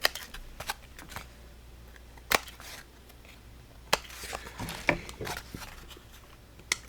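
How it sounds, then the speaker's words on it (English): Close, sharp snips and scrapes of paper being trimmed on a handmade stamped card, with a few louder crisp cuts scattered among soft shuffling handling noises and no talking. "I've got a little teeny tiny bit of trimming to do."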